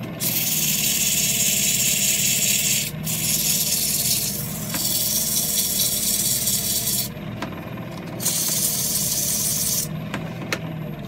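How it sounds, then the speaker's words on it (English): Sandpaper rubs over yew wood being shaped into a table lamp, loud close rasping strokes in long sustained runs with a few brief gaps between passes. "I'll just sand that off."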